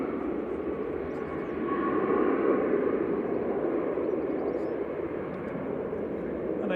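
Boeing 737 MAX 8 airliner at Manchester Airport, a steady distant engine rumble that swells slightly midway and holds, with no talk over it.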